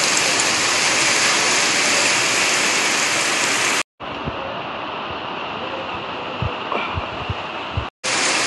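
Heavy rain pours down steadily in a rural area of the Ratnagiri region, heard as a loud, dense hiss, with a brief cut midway and a few faint knocks underneath.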